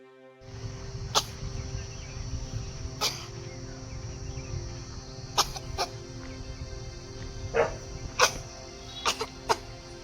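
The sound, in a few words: coughing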